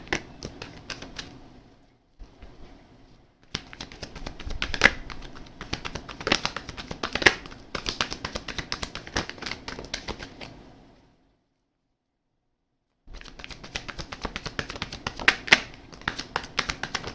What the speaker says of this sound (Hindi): लास्ट शफल है गाइस।